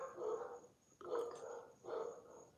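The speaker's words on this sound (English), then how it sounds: "I don't know what they're barking at." Dogs bark in a few separate bursts at middle distance, three barks spaced about a second apart, fairly faint with no talk over them.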